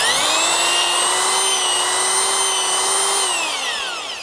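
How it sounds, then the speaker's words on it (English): A power drill bores a hole into soil for a Sentek Drill & Drop soil moisture probe, running as a loud, steady, close whine that holds its pitch, then drops slightly and winds down near the end. "keep it really straight as you possibly can, and start drilling."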